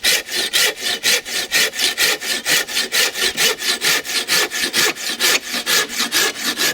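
A sharp hand saw cuts through firewood up close in fast, steady back-and-forth strokes, each rasping pass clearly separated, with no talking over it.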